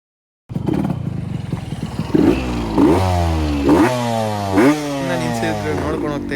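A 1999 Yamaha RX-Z two-stroke motorcycle starts with a rattling idle, then revs up and down in several rising and falling bursts, loud and close, its exhaust note buzzing raspily.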